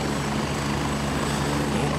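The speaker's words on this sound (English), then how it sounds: "There's a very loud chopper." A very loud helicopter flies overhead in the tactical shooter Gray Zone Warfare, its rotor a constant heavy thrumming drone that fills the whole stretch without a break.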